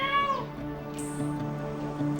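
A feral street cat gives one clear, rising-then-falling meow at the start, then holds a lower, droning cry, close by, during a tense standoff over a female.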